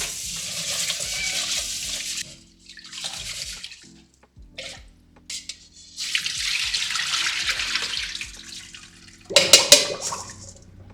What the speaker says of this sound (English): I usually give rice 3 washes or until the water starts to run clear.